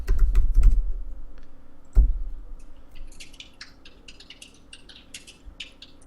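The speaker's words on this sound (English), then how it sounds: "I don't know if my microphone picks up my keyboard," Typing on a computer keyboard during a gaming session, a burst of loud, close keystrokes followed by a sharp key hit, then fainter, rapid clicking trailing off.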